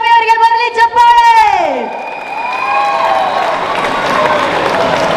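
After a brief tonal, voiced phrase, an audience at a Kannada film event breaks into loud, sustained applause and cheering that fills the room and carries on to the end.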